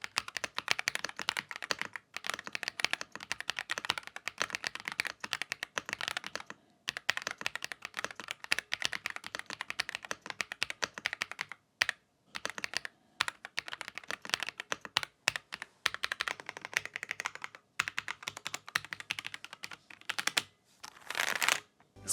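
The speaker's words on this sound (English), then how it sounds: "let's do the sound test" Rapid clacking of a Royal Kludge R65 gasket-mounted mechanical keyboard, continuous typing bursts with brief pauses, close and crisp, no talking.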